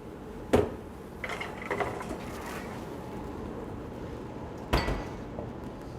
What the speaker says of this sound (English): So now we have these muffins. We're going to put them in the oven